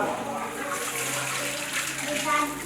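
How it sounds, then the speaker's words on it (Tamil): Water runs steadily and fairly close while hands are washed, a continuous splashing rush with voices speaking over it. "அப்படியே கையை கழுவி விடுங்கோ"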